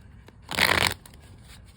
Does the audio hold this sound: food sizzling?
no